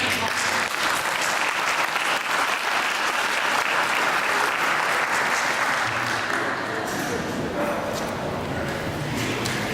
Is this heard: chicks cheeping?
no